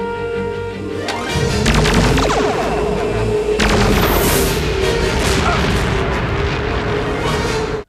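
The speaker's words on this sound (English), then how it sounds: "I guess I also mentioned the same thing with that gunfire, like those 3 shots" Stock gunfire effect from the Batman animated series, loud booming blasts with a sharp onset, then a sustained roaring crash that fills the rest of the clip with no talk over it.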